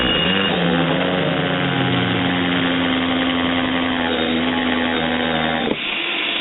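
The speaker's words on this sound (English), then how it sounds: "we're going to go ahead and drill out our hole" A power drill fitted with a 1.5 inch hole saw cuts through the plastic wall of a rain barrel, a loud steady whirring grind that runs without a break before stopping abruptly near the end.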